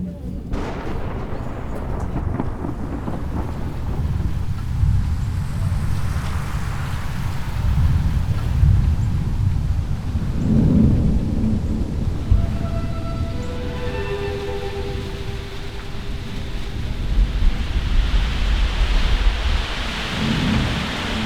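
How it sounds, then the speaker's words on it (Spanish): Heavy rain pours steadily on Migingo island with thunder rumbling repeatedly, loud and continuous, a dense roar of rain under deep rolling booms, no talk. "Ha empezado a llover muy fuerte."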